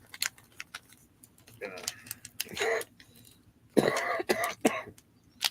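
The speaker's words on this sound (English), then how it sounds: "Oh, I coughed." A few short coughs and throat-clearing bursts close to the listener, separated by quiet gaps with light clicking and tapping noises.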